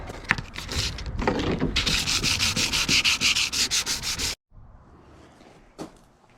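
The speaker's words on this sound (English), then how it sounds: "sanding all the top right off." Steady rhythmic sanding strokes scrub the shiny painted deck of a Farrier F2 trimaran, loud and close in quick back-and-forth passes before stopping abruptly.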